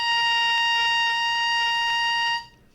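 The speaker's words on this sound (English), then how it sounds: "And what we're doing is called crowing right now." Oboe reed crowing, a bright buzzing steady tone held a couple of seconds, close and alone before cutting off abruptly.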